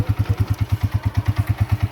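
A motorcycle engine idling close by, its even rapid thumping beat pulsing steadily and loudly with no other sounds.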